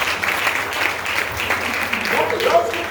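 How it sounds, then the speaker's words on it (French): A church congregation claps and cheers during a sermon, a steady wash of applause mixed with voices that swells slightly toward the end. "Acclame."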